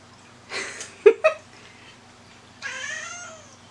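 A pet cat in a home kitchen meows several times, a short strained cry followed by two sharp yowls and then a longer drawn-out meow, close and fairly clear.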